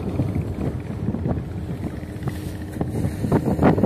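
A ferry sits on the water where three rivers meet, with a continuous low rumble of engine and water churning under gusty wind buffeting the microphone.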